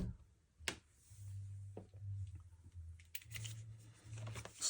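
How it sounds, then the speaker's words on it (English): A solar panel cable is snipped with cutters, giving a few sharp, isolated clicks and snaps over a quiet low hum, close to the listener. "So just cut the solar panel cable"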